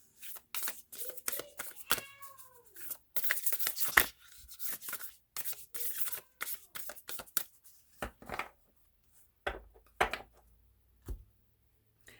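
Tarot cards are shuffled and riffled in quick, irregular bursts of papery flutter, separated by pauses. The sound is close and fairly quiet.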